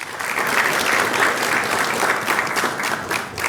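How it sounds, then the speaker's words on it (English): An audience at a business and investment forum in New York gives a round of applause, a dense, sustained wash of clapping from many hands, loud and even throughout with no voice over it. "Let's give her a round of applause."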